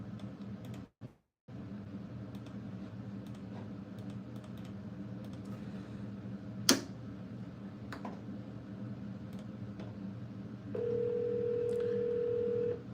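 A telephone during a cold call, with quick keypad-like taps and beeps followed by a steady, even tone held for a couple of seconds near the end, all without talking.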